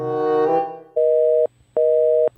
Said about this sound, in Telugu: master phone కలిస్తలేదు